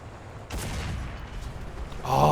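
Tank cannon fire in the War Thunder video game, a rapid-firing gun whose sharp shot starts a sustained loud rumble, with a second heavy blast near the end.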